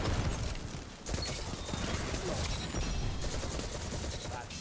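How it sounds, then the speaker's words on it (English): Gunfire during a Destiny 2 Crucible match: steady bursts of rapid shots and automatic fire rattling throughout, fairly loud, with game mechanisms clanking and occasional voices mixed in. "There's some shooting going on over here."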